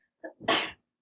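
A single sharp sneeze with a short intake of breath just before it, close and loud against silence.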